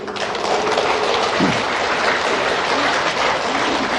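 Audience applause at a lecture on happy living by priest Hwang Chang-yeon: a steady, dense wash of clapping from a crowd, moderately loud and even throughout.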